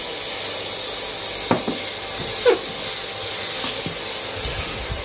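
Tomatoes hiss in a hot pan with garam masala, turmeric and chili powder for misal pav, a soft steady sizzle broken by a few faint utensil clicks.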